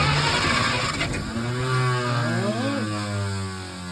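A 1951 Packard straight-eight left sitting for over thirty years is cranked over with its starter, a loud, close, steady churning whir that shifts in pitch as it labours without clearly catching.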